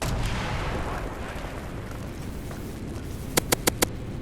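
An explosion in the video game Call of Duty: Black Ops bursts loudly at the start and rumbles away, followed by four sharp, evenly spaced cracks near the end.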